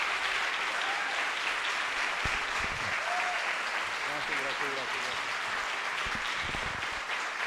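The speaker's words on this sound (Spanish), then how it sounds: "Y lo recibimos con un fuerte aplauso." Steady audience applause greets a guest at a product training event, a dense, even wash of clapping that holds its level from start to finish, with faint voices underneath.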